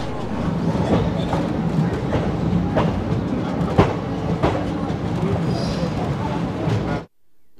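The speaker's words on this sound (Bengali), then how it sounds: "ছেড়ে দিল আমাদের ট্রেন কাশি থেকে" The 13009 Doon Express pulling out of Kashi station, heard from on board as a loud steady rumble with rhythmic clickety-clack of wheels over rail joints and occasional sharp knocks, ending abruptly.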